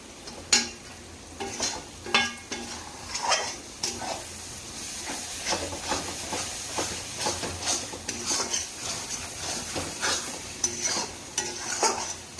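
A paste of ginger, garlic and onion with ground coriander fries in a pan. Continuous sizzling runs under repeated stirring strokes, and a spoon scrapes and clinks against the pot in an uneven rhythm close by.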